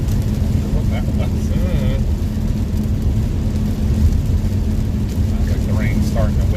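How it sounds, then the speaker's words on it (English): Steady, loud rain pours during a storm chase on the Plains, a dense hiss with a low rumble underneath that holds constant throughout, with brief voices in the background. "Sounds like the rain's starting to wither away already."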